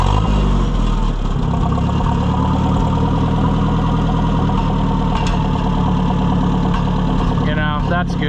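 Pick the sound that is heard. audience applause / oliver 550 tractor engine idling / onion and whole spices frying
oliver 550 tractor engine idling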